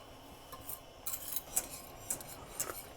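Faint scraping and light clinking of a utensil against a pot of flour-thickened sauce for baked mac and cheese, repeated in small irregular strokes at a quiet level.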